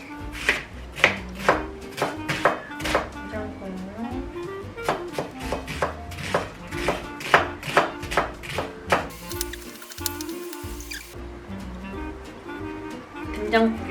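A knife chops onions on a board in quick, sharp taps, sometimes steady and sometimes irregular, close and clear, with a brief pause near the end.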